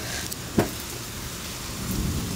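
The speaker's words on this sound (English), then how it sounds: "There's a big thunder." During a thunderstorm in McKinney, a sudden sharp crack of thunder breaks over a continuous hiss of steady rain, then fades back into the downpour; no one speaks.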